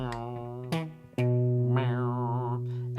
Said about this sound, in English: what we can hear in the background is this buzzing sound